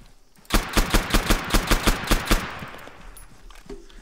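In the Arma 3 video game, a loud burst of nine evenly spaced gunshots fires in quick rhythm, then fades into a low, lingering rumble.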